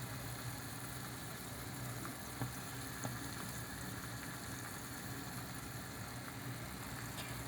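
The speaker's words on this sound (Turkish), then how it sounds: "gördüğünüz gibi kaynıyor" Liquid bubbles and simmers in a pot with a steady, faint crackling hiss and occasional small pops.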